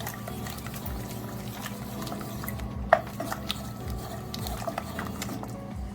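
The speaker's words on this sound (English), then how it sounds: "it's boiling down into a glaze" Thick sauce for Jamaican yam pudding bubbles and simmers steadily in a pot, boiling down into a glaze, with soft pops and an occasional clink of a utensil, close by and without voices.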